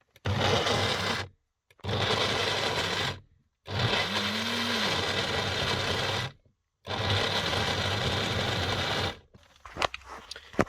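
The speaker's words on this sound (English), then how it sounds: "now we're gonna blend our gazpacho. So because we have small blender, I guess that will take us a while" A small blender blending gazpacho inside a tiny van whirs in four long bursts separated by brief pauses, steady and buzzing, ending with a few clattering knocks.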